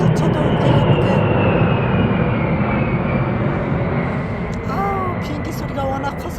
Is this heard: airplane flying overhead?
yes